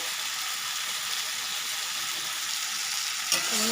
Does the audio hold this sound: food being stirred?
yes